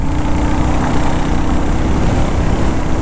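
Royal Enfield Classic 350 motorcycle engine running loud and close on the road, a steady low thumping drone with no distinct rev peaks, wind noise over it.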